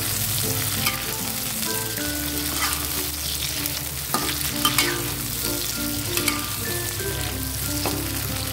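Chillies and tomatoes sauté in a hot pan for a Padang-style sambal, with a steady close sizzle, crackling oil and repeated scraping stirs of a utensil against the pan, and no voices.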